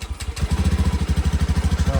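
A small motorcycle engine, started on a homemade 12V LiFePO4 32650 battery pack, catches after a brief cranking stutter and settles into a steady, loud, close idle with a fast regular putter.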